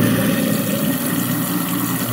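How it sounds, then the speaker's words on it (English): A garbage disposer runs under a kitchen sink with water going in, a loud, steady, continuous churning hum with no breaks and no speech over it. "The noise you hear is actually the garbage disposer."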